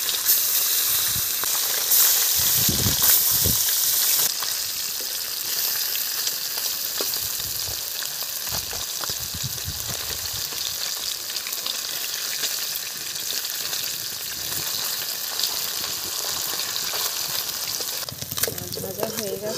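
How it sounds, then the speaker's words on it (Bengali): Fresh amudi river fish fry in hot oil in a village kitchen, a loud, steady sizzle and hiss with occasional stirring scrapes and clatter, continuing throughout. "মাছগুলো এবারে ভেজে নেব।"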